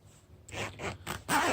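Zippers on a waxed canvas cycling pouch are drawn in a few quick, close rasping pulls, each short and crisp, the last one loudest.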